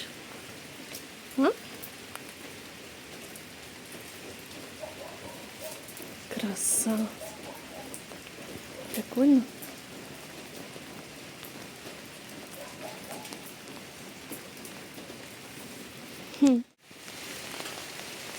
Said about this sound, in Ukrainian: Як воно капає, нормально капає.